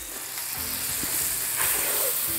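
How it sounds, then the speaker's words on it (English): A whole stick of butter melts and sizzles in a skillet for baked macaroni and cheese, a steady, moderately loud frying hiss that grows slightly over a couple of seconds, with no speech. "So to the skillet, I'm going to add, please don't burn. I'm adding an entire stick of butter."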